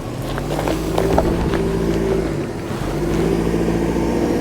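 A GMC Canyon Denali pickup truck labours up a steep off-road hill, its engine droning steadily at moderate revs with a loud, close, continuous hum and small surges as the wheels grab for traction.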